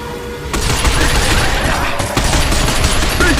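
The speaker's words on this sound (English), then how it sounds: "Stop them by shooting their legs." Sustained rapid gunfire from the video game Binary Domain, aimed at the legs of advancing robots, a loud dense continuous fusillade of overlapping shots with no pauses.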